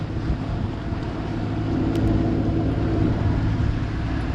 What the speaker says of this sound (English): Wind has picked up now.